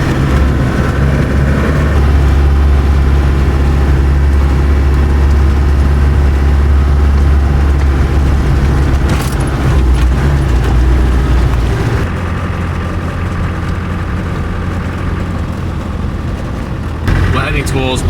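A car on a snowy road toward a mountain pass in Georgia, its engine a loud continuous low rumble with road noise; a voice speaks over it, and the sound thins and drops near the end.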